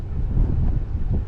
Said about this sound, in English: we're trying to get out of this wind